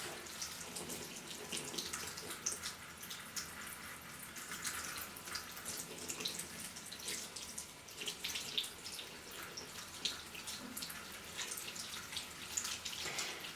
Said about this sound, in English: Turn the tap on, it'll turn. And now I'm just going to rinse that off.